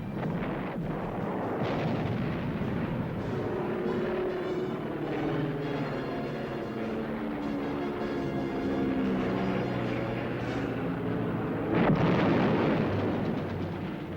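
World War II artillery fire and explosions in a documentary soundtrack form a continuous loud rumbling roar, with a heavy blast near the end and the drone of aircraft such as Stukas mixed in.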